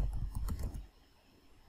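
Typing on a computer keyboard while setting up a user in an Alpine Linux 3.21 installation on VirtualBox: a quick burst of close, soft key clicks for under a second, then quiet.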